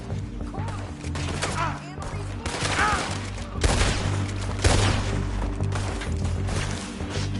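Gunfire from the video game Red Dead Redemption 2, repeated loud shots and bursts spread across several seconds amid a busy, crackling soundscape.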